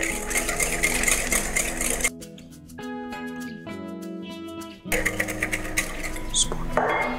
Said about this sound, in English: So as you whisk it, you need to make sure that you incorporate the air.